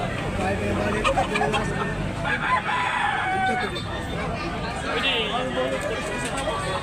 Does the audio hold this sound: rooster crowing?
yes